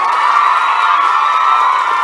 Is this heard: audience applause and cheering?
yes